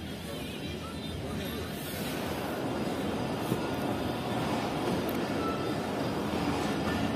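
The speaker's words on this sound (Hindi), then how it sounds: "पूरे 5:30 बजे डिपार्ट कर रही है 40 डाउन जाफर एक्सप्रेस GU 24556 के साथ सक्खर रेलवे स्टेशन से" Jaffer Express, train 40 Down hauled by locomotive GU 24556, pulling out of Sukkur railway station, heard from aboard as a steady loud rumble and rolling wheel noise with a faint squeal.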